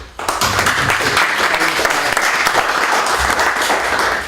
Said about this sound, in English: so my big applause for him